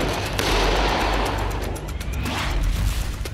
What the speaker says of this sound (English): This ultimately causes the bag to burst, which releases gases which then ignite in the sparks from the steel wool. And then ultimately explode.